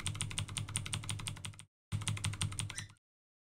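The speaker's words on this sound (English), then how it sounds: "it's still gonna pick up my keyboard" Close, quick keystrokes on a computer keyboard come in two busy bursts of rapid clicking, split by a short silent gap and ending abruptly.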